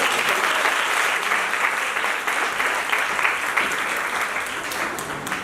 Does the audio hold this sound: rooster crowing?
no